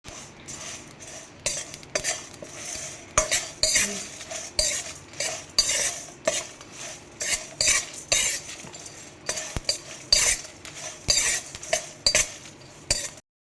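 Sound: frying cinnamon, cloves, Byadgi chillies and curry leaves on low flame

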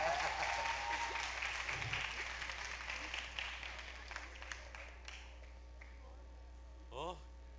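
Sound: audience applause

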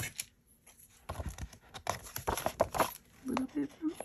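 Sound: cutting paper planner spread

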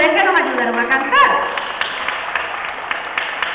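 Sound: audience applauding

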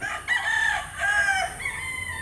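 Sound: rooster crowing

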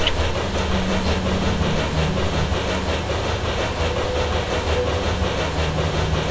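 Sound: train riding along rails in a video game

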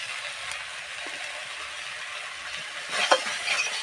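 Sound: stirring chickpeas with turmeric powder in a pan

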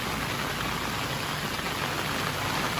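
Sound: heavy rain

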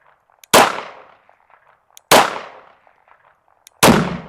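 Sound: gunshot at pumpkin

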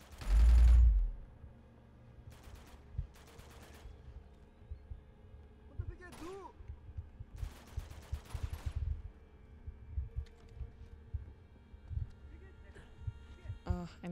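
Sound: gunfire from the video game Uncharted 2: Among Thieves

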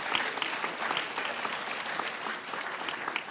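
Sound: audience applause

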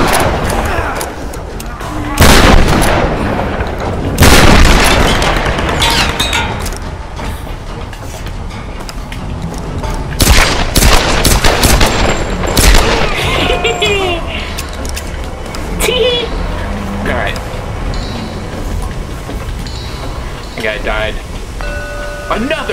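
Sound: gunfire in the video game Tomb Raider: Definitive Edition

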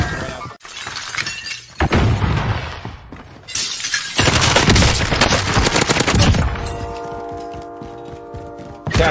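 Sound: gunfire in video game Call of Duty Modern Warfare

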